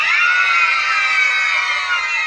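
Loud sustained shouting from a crowd of children, a dense continuous roar of young voices held throughout, as if answering a call to yell louder during a storytelling session.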